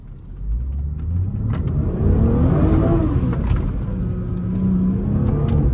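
A 500hp BMW revs hard while sliding through corners, its engine roaring loud and close with rising and falling pitch as the throttle is worked, sustained across the whole stretch with no talking.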